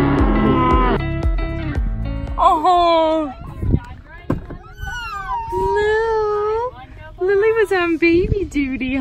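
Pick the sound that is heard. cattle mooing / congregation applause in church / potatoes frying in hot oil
cattle mooing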